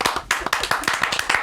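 Hands clapping in a quick run of sharp claps over about a second and a half, close and fairly loud.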